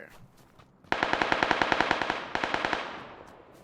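Automatic gunfire in the video game PUBG Lite, a loud rapid burst of evenly spaced shots lasting over a second, a brief gap, then a shorter burst fading out, with no talking.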